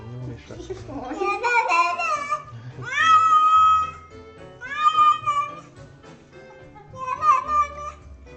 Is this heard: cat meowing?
yes